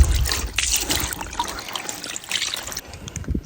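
Water trickles and splashes steadily while a goat skin is washed by hand in a village setting, a close, continuous liquid sound with small irregular drips and no talk.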